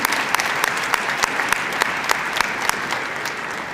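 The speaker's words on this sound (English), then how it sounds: "let's give a round of applause for all" An awards-ceremony audience claps in a sustained, even round of applause, with sharp individual claps standing out against the dense crowd sound.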